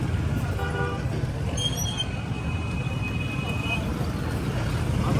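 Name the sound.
heavy evening rush-hour traffic with horns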